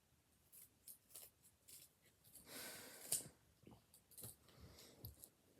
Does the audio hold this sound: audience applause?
no